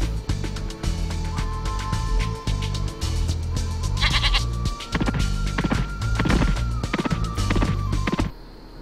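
A goat in Spyro 2: Ripto's Rage bleats loudly and repeatedly over several seconds, each wavering call rising above a busy, music-laden game soundscape with thumping steps.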